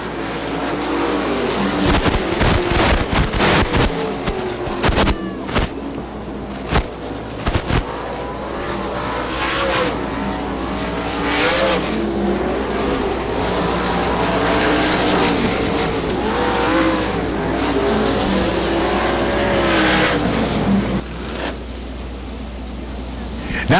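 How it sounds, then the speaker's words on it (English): IRA sprint cars race at Butler Motor Speedway, their engines roaring loudly and continuously as they pass and circle the track, with tire squeal and a public-address announcer talking over the noise. "Now this is what it's all about"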